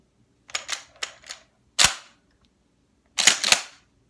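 Shells are ejected from a Mossberg shotgun, making a string of sharp metallic clacks and rattles: several quick clicks, then a louder snap, then a close double clack near the end.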